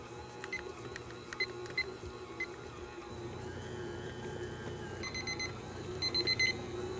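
A kitchen timer beeps in two short bursts after eight minutes of kneading pizza dough, loud over the steady whir of a stand mixer running underneath.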